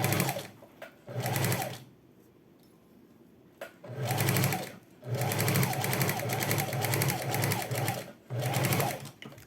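A sewing machine stitches a pocket onto a pair of shorts, opening with a backstitch, in several loud close bursts of rapid needle clatter separated by short pauses.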